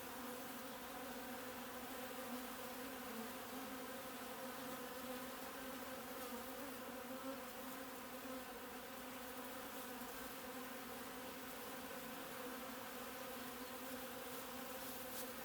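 A dense, steady buzz of many honey bees swarming around a hive continuously and close by, with no voices.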